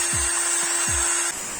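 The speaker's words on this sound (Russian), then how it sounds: "при помощи гриндера начинаю обтачивать его под конус" Bench grinder tapering a broken concrete drill bit held in a cordless drill: a steady high whine with the tool hum beneath, a few short grinding contacts, then the tone drops away near the end.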